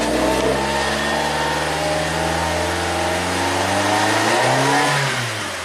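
A 2008 Suzuki SX4 with a low-power fault revs up from idle, its engine tone climbing steadily, then rising further before settling back down near the end. The sound is close and loud, with no voices.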